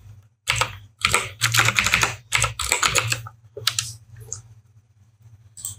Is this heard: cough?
no